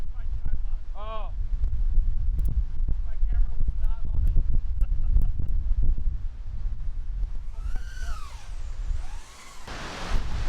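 Strong gusty wind buffets the microphone of a small FPV cinewhoop drone flying in extremely high winds, with a loud rumbling roar that surges and drops, a sharp motor whine rising near the end.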